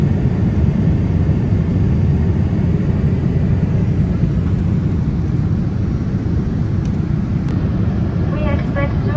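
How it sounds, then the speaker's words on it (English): Inside the cabin of an ANA Boeing 787-8 climbing just after takeoff, a loud, steady broadband engine roar and airflow rumble fills the whole stretch without letup. "Plane has just took off, and from here we can see the airport, and it's gaining its cruising altitude"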